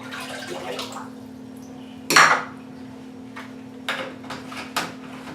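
Cloth diapers are dumped into a tub of bleach water, producing one sudden loud splash and clatter midway, followed by a few lighter knocks and drips against a faint steady hum.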